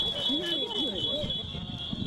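A beeping Easter egg made for visually impaired children at an annual Easter egg hunt gives a steady electronic tone throughout, over background chatter and children's voices.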